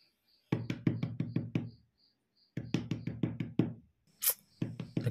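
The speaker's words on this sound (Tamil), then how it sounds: "ஏதோ கதவு தட்ட மாதிரி சவுண்ட் கேக்குதுல?" Firm, rapid knocks on a door ring out in two close bursts of about six raps each, with a short pause between them, then a sharp high click and a few more knocks.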